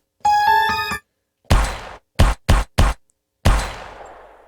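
A harmonic tone, then a series of sharp gunshot effects: one blast, three quick shots in a row, then a final booming shot with a decaying tail.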